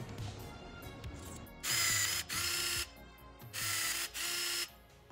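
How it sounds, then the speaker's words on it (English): Hand ratchet clicking as bolts and nuts are tightened on aircraft fuel valve and boost pump hardware, in several short bursts of quick pawl clicks with brief pauses between, close and fairly quiet. "And then some 440 bolts and nuts go to the other two up here and tighten it down."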